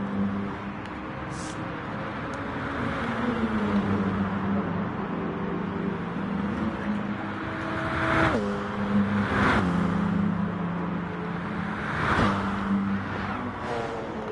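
Race cars in the GT Sport video game during an endurance race at Blue Moon Bay, a sustained engine drone with shifting pitch and several whooshing cars passing close by, constant and loud throughout.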